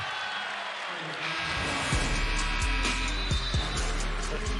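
Crowd noise fills a basketball arena during a Providence vs. Butler college game, a steady loud roar with sharp thumps of a bouncing ball and sneaker sounds on the court.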